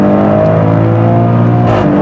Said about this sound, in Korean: 엔진 소리라든가 배기음도 조금 더 달라지는데